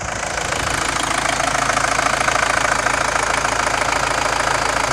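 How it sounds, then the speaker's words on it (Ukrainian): Volkswagen Passat B5 engine idling with a steady, even rumble and a faint rapid ticking throughout, close and continuous with no talk. "Звук мотора ідеальний"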